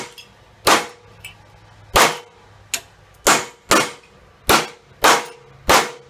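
A large hammer strikes copper on forming dies while shaping a handmade falconry bell: eight sharp, ringing metallic blows at a slow, steady pace, loud and close, each with a brief decay.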